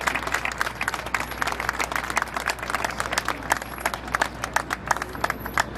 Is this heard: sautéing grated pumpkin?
no